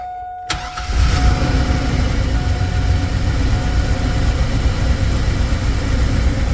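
A 2000 Chevrolet Astro van with the 4.3 engine, recently tuned up and carrying a misfire fault, cranks and catches, then runs at a steady, loud, close idle with a rough low rumble and no talk.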